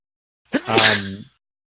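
A single sharp human sneeze with a quick intake followed by a loud burst, heard alone during a tabletop role-playing game session.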